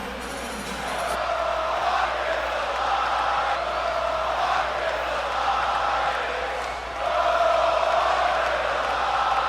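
Arena crowd at T-Mobile Arena in a WWE video game, a steady loud roar of cheering that swells near the end, with a commentator talking over it.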